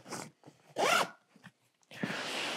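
Zipper being pulled open and shut on the front compartment of an Eberlestock Hyllus 45 L transport bag, two or three short rasping pulls close to the mic with brief pauses between them, no talking.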